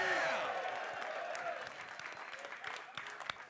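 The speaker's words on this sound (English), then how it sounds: "Let me hear by a round of applause." Audience at a live show applauds, a dense clatter of clapping that starts loud and gradually thins out with a few whoops and scattered claps.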